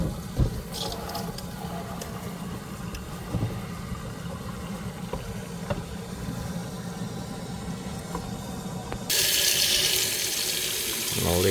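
Water runs steadily from a newly replaced kitchen sink faucet, then near the end the sprayer switches to its shower spray and the sound becomes a brighter, louder hiss.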